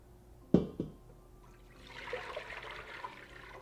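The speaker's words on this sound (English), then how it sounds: "I won't heat it up quite yet, but I will pour it back in that pot." In Animal Crossing: New Horizons, dashi broth mixed with soy sauce, mirin and salt is poured back into a pot, giving a soft steady liquid wash after a couple of sharp knocks.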